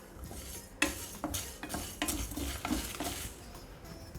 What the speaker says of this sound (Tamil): இதில் ஓமத்தை மட்டும் போட்டு வறுத்து எடுத்துக்கணும்